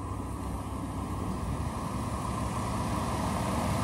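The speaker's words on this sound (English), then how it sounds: "The motor sounds good. It idles smooth." The engine of a 2015 Ford F-150 XLT 4x4 idles smoothly with a steady, even rumble heard close up, with no talk over it.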